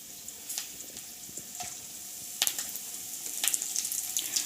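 Curry leaves hit hot oil in a pan while chilli parotta is being made, sending up sharp, crackling bursts of sizzle that grow busier toward the end, close and fairly quiet, with no voices.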